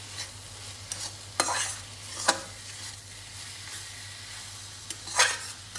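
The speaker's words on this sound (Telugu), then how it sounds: "ఇవన్నీ మళ్ళీ ఒకసారి దీంతో పాటు వేయిస్తున్నా" Semolina and coconut fry in a pan with pumpkin pulp for halwa while a spoon stirs them. Soft sizzling runs underneath, and a few scraping stirs and sharp taps against the pan stand out.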